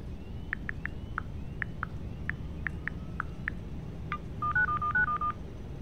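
In the Need for Speed Heat video game, a phone emits a rapid series of short touch-tone beeps to unlock a laptop, followed by a quick rising and falling burst of tones over low background hum.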